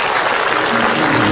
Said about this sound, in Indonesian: boleh minta tepuk tangannya bapak-bapak,